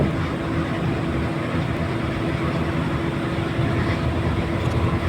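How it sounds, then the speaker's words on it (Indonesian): A Patas Bagong express bus cruises at just over 100 km/h on the Mojokerto–Surabaya toll road, its engine and road noise a constant, loud drone heard from inside with no voices. "Tampak bus melaju sedikit di atas kecepatan dari 100 km per jam di jalan tol"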